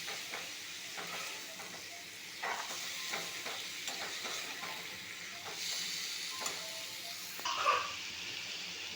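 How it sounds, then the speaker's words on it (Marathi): Marinated mixture with spices being sautéed in a pan over a low flame while making a prawn, potato and tender cashew dish, with a steady close sizzle and repeated scraping stirs of a spoon against the pan. "आता ही आपण चांगली परतून घेऊया गॅस बारीक केलेला आहे जेणेकरून आपले मसाले जळणार नाही"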